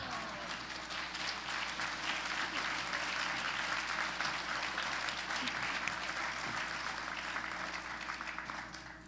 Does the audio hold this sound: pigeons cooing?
no